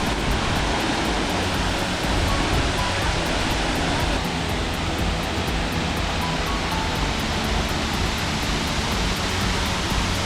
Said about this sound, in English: here's the waterfall from the other side